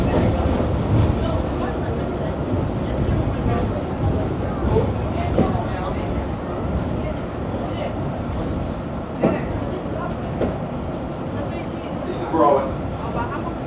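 A Manhattan-bound NYC subway W train rumbles along with a constant low roar and steady high whine, occasional clanks and squeals over the rails, while voices talk beneath the noise.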